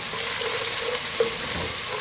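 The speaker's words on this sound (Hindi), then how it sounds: "साथ ही हम 1 tablespoon ginger garlic paste add करेंगे," Onions frying with ginger garlic paste in a pan, a continuous close sizzle with a brief stir partway through.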